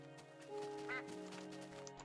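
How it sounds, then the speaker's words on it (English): Ducks quacking in the Minecraft Infdev+ video game, a few short nasal quacks over a quiet game background with faint tonal music, close and fairly soft. "the ducks do make duck sounds"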